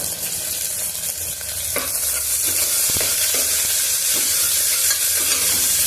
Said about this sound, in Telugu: ఇప్పుడు పుదీనా అల్లం వెల్లుల్లి పేస్ట్ వేసుకొని అల్లం వెల్లుల్లి పేస్ట్ పచ్చివాసన పోయేంత వరకు వేయించుదాము